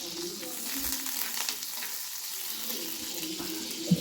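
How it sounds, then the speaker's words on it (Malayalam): Butter melts in a pan for cooking corn, giving a continuous close sizzle and crackle with a light bubbling wash and one small clink near the end, and no voices. "ഒരു പാത്രത്തിൽ ഞാൻ വെണ്ണ ഇട്ടിട്ടുണ്ട്"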